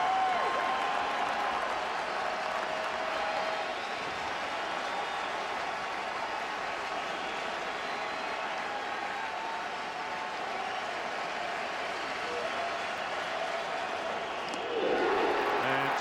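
A packed baseball stadium crowd at a 2008 Dodgers vs Cubs playoff game roars in a sustained, dense wash of cheering, swelling louder in the final seconds.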